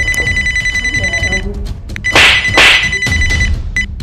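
A telephone bell rings in a steady repeating trill through the first part, then returns briefly near the end, cut across by two loud bursts of noise and surrounded by shouting voices in a comedy scene.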